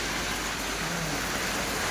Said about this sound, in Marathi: सगळा पाऊस चालूच आहे. लय पाऊस आहे, लय पाऊस आहे.